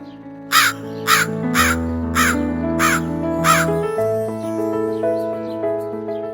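A crow caws six times in a regular series of harsh, loud calls over a background of sustained music tones that continue after the calls stop.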